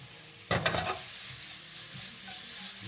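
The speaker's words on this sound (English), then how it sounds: "We saute a little more." Sautéing with aji panca in a pan for a Peruvian seafood sauce: a sudden burst of crackling sizzle and stirring scrapes, then a softer steady hiss, close up, no talking.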